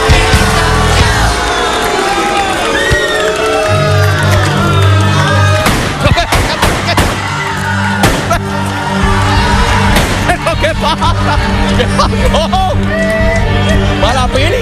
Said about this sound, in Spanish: Un aplauso, pero suavecito, ¿ok?